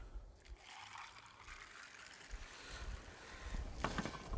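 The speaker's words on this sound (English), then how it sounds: "So we fill it up with water." Water trickles and pours into a container while lemonade is being made with lemon and ice, a soft steady splashing that swells slightly toward the end, alone with no talk.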